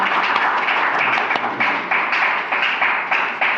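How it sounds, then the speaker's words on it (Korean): Audience applause for a former minister at a Korean political party economic debate forum, a steady dense wash of many hands clapping in a hall, fairly loud and continuous with slight rhythmic swells. "다시 한번 윤중현 전 장관님께 힘찬 박수 부탁드리겠습니다"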